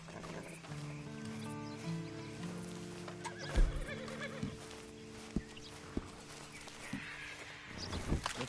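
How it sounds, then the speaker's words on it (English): A horse in the video game Red Dead Online neighs loudly and then walks with a few sparse hoof thuds, over sustained music tones. "Then you better get on this horse."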